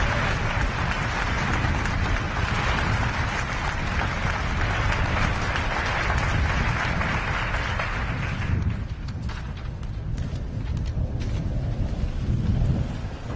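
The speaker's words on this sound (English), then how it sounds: "Thank you for the applause" A large audience at an awards event applauds loudly and continuously, a dense, rain-like wash of clapping that thins slightly near the end.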